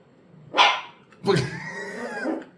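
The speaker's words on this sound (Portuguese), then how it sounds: "Não precisa latir." A dog barks close by, one sharp bark followed by a longer, whining, drawn-out bark.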